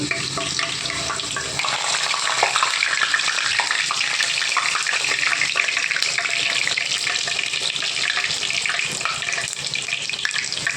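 Puris fry in hot oil, giving a loud, dense, continuous bubbling sizzle that stays steady and close for the whole stretch.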